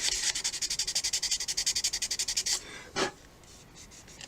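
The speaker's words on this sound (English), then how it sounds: "a little bit of sanding on it to smooth that out." Fine abrasive sanding on a model rocket motor mount: a steady run of quick, rhythmic back-and-forth rasping strokes, close and fairly loud, then stopping, followed by one short final scrape and quiet.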